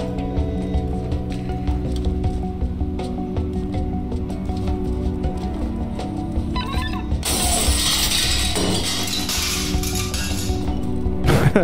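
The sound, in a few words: window shattering, from the video game Stray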